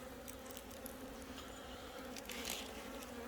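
Honeybees at a hive fitted with a syrup feeder buzz in a dense, continuous close drone that swells slightly near the end, with no voices.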